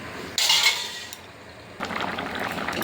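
A metal lid clatters onto a cooking pot of dal with pumpkin and papaya, simmering in water with salt and turmeric. One bright clink is followed by a second rattling settle a moment later, quiet and close, with no talking.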